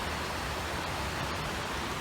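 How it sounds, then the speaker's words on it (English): Rushing white water of the Chattahoochee River, a dense, steady broadband roar heard from a distance, continuous and unbroken with no voices. "the rushing of the white waters down there"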